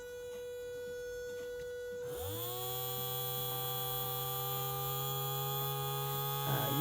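An Arduino-controlled electric motor hums quietly, then after about two seconds it spins up and settles into a steady, slightly louder whine and hum that continues to the end.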